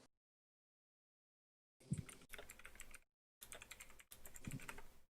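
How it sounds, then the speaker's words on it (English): Bursts of fast typing on a computer keyboard, close and crisp, separated by silent pauses. "You guys hear my keyboard?"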